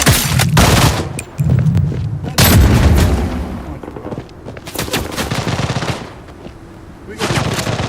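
Game gunfire in the shooter Blood Strike, loud repeated automatic bursts alternating with pauses, with brief speech faintly mixed in.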